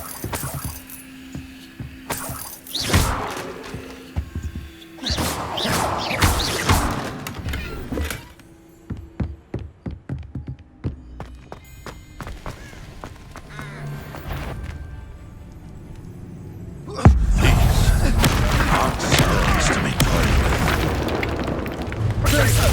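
Confringo spell blasts in Hogwarts Legacy go off as booming explosions with crackling bursts and debris during a chaotic fight. Voices shout spell names and taunts over the blasts.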